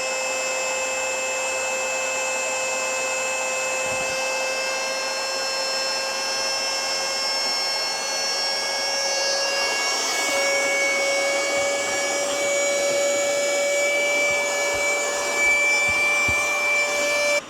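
Small air pump inflating an accessory for a Tesla, a steady, moderately loud whining hum with a rising, shifting tone that runs unbroken throughout.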